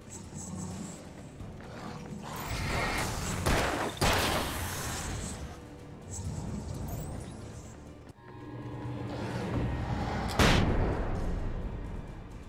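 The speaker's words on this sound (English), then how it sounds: "I did not mean to use flare gun." A flare gun fires in the Alan Wake game with a loud whooshing burst that flares up twice among dense rumbling combat noise and roaring effects.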